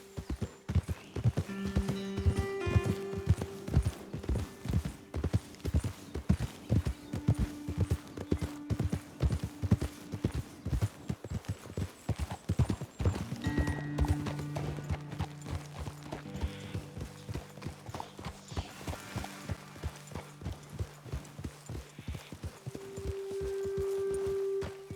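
Horses' hooves clip-clopping steadily in Red Dead Redemption 2, a continuous close rhythmic trot with occasional whinnies and faint game music underneath.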